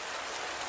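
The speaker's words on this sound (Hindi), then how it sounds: "बारिश शुरू हो गई।" Steady rain pours down, a dense, even hiss of falling drops with no other sounds over it.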